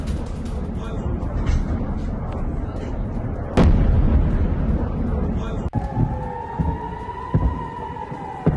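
A missile strike near the Haifa refinery in Israel: heavy rumbling blasts and a sharp explosive crack amid continuous low roar, with a siren-like wail rising toward the end and voices present.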